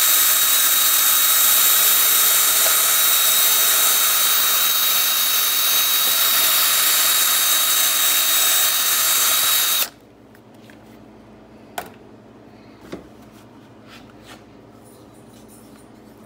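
A drill-driven hone smooths the bore of a lever arm shock absorber, a loud continuous high whirring for about ten seconds that stops abruptly, then quiet with a couple of small clicks.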